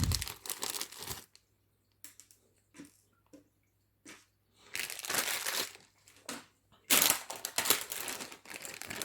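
Plastic bag of Playmobil Back to the Future DeLorean parts torn open, bursts of close crinkling and crumpling plastic with loose parts rattling, in several separate handling bouts between quiet pauses.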